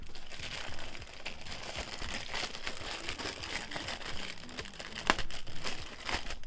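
Continuous crinkling and rustling of packaging while a Coach bag is unboxed, close and fairly steady with a sharper crackle near the end.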